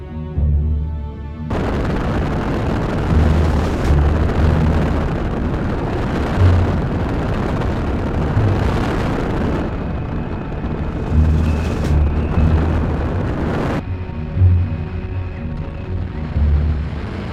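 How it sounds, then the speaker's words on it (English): Airsoft airstrike bomb pyrotechnics at a WWII reenactment game, a long run of loud, rumbling booms and blasts with repeated heavy low thuds, dense and continuous throughout, no talking. "The bombs fall in the vicinity of the western defenses"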